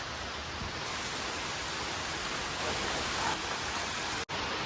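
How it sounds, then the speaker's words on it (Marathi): Heavy rain falling on a farm in the Konkan region makes a steady, dense hiss that holds evenly throughout, with no voices and only a brief dropout near the end. "पाऊस खूप आहे"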